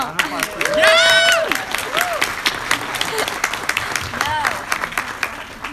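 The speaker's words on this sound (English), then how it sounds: "Let's give a round of applause for Gerst." A crowd at an Anthrocon 2017 convention panel claps steadily in sustained applause, with a few cheers and whoops rising above the clapping.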